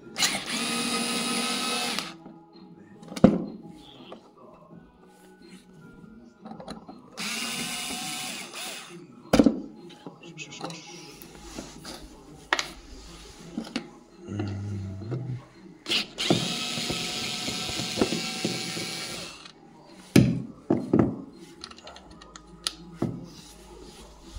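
A power drill or screwdriver backs screws out of a Lada Kalina car during fuel filter replacement, several loud whirring bursts of a few seconds each with clicks and handling noises between them.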